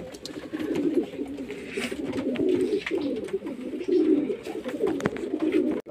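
Several pigeons coo continuously nearby, their low throaty rolling calls overlapping in steady phrases.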